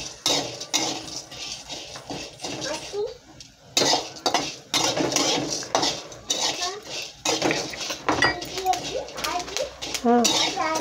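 Black masala spices are dry-roasted in a pan. A utensil clanks and scrapes repeatedly against the metal in irregular bursts, with a faint crackle and close speech over the top.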